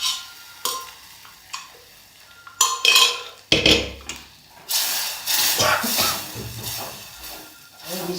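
Cooked spinach being tipped into a pan and stirred with a spoon, with irregular clanks and scrapes of utensil against metal over a faint sizzle, busy and close.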